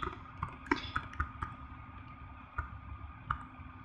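Typing on a computer keyboard produces a scattering of quiet, sharp clicks at an irregular pace, with a few pauses between keystrokes and no voices.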